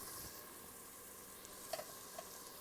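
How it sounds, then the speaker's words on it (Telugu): Chopped onions sizzle quietly as they are added to frying onion paste in a pan for Telangana-style fish curry, giving a soft, steady hiss with a few faint clicks. "కట్ చేసి పెట్టుకున్నాను ఉల్లికడలు ఇవి నేను ఇప్పుడే కొన్ని వేసేసుకుంటాను"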